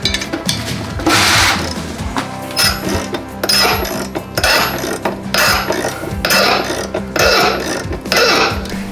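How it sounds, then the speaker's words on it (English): A wrench works a stuck transmission part loose after heating, with loud, close mechanical clicking and clattering in repeated bursts over a steady noisy background. "We're going to use heat and just go back and forth, heat and wrenching."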